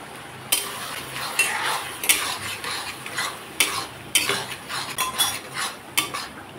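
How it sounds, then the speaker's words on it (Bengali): A mustard, cumin and green chili paste being stirred and sautéed with tomato and onion in a pan, with irregular spoon scrapes and clinks over a faint low sizzle, quiet and close. "এখন মশলাটাকে আমি ভালোভাবে টমেটো আর পেঁয়াজের সাথে কষিয়ে দিলাম।"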